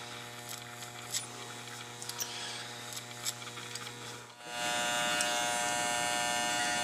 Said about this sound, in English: The clipper's pretty sharp, so we don't have to go in too far.